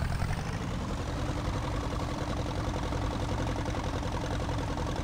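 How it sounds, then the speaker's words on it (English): A tractor engine idles steadily in a farming survival game, a low, even rumble that runs unbroken throughout with no talking over it. "Man, I put some hours on this tractor."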